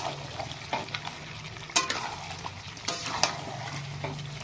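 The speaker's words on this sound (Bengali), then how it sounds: "আস্তে আস্তে নেড়ে চেড়ে এটাকে" Chicken pieces stirred with spices in a hot pan, a steady sizzle broken by a few sharp scraping strokes of the spoon against the pan, close and alone without talk.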